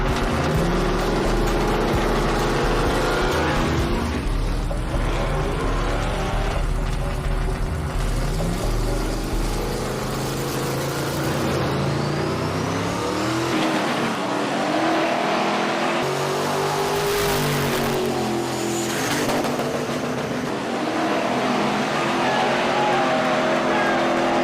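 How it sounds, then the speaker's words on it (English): Chevrolet Caprice donk cars, including a green Caprice and a blue 1975 Caprice, race with loud engine roars and repeated revving sweeps that rise and fall in pitch throughout. "Donkmaster's driving the green Caprice Cocaine Cowboy. Stuntman's in his blue 75 Caprice"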